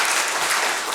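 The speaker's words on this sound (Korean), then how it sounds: "우리 박수로 한번 격려해 볼까요?" Church congregation clapping for the choir after its hymn, a steady dense wash of applause filling the whole brief moment without voices.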